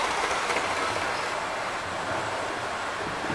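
A Hornby DMU model train runs on a layout with a continuous close rushing rumble of small wheels and motor, steady throughout with no voices.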